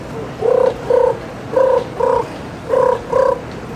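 A didjeridu imitates the call of a little pigeon, six short hooting notes played in pairs with brief pauses between them, close and clear over a soft drone.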